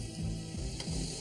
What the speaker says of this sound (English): He begins by caramelizing the venison trimmings